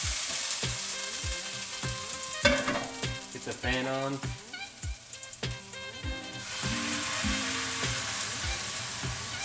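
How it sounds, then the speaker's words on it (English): Whole peeled canned tomatoes sizzle loudly in a hot pan with steady crackling frying noise, a brief voice speaking over it near the middle. "Sizzling."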